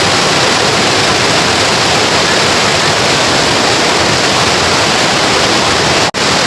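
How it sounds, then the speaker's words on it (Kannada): A forest waterfall stream rushes along the Yana trek near Gokarna, producing a loud, dense, unbroken roar close by that holds steady before a momentary dropout near the end. "ಈ ಸೌಂಡು, ಏನು ನೀರು ಜುಳು ಜುಳು ಜುಳು ಅಂತ ಆ ರಭಸವಾಗಿ ಹರಿತದಲ್ಲ"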